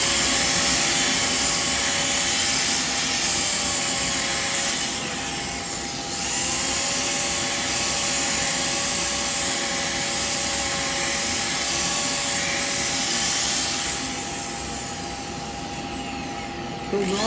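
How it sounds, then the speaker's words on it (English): Ash bowl spinning on a wood lathe while being sanded, a steady loud broadband whirring hiss with a constant motor hum that holds for the whole stretch, easing slightly mid-way. "Quick sand it."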